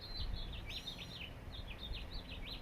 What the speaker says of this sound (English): Birds off in the distance.